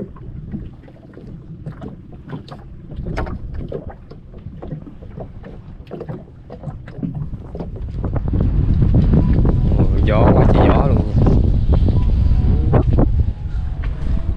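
Strong wind buffets a small fishing boat at sea, with knocks and splashes early, then a loud sustained roar of wind on the microphone swelling to fill the latter half.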